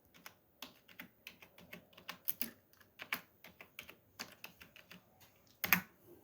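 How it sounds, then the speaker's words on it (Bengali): Fingers type a name on a computer keyboard while highlighting cells in a Microsoft Excel spreadsheet, producing a close, steady run of individual key clicks with one sharper, louder keystroke near the end. "এখন দেখুন আমরা এখানে যে কোনো একটা নাম লিখি, আমরা যেমন বিল ফার্স্ট।"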